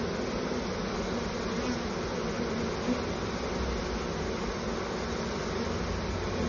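Honey bees buzz steadily around an open hive with a frame lifted out, a dense, even drone that holds without break and without any voices.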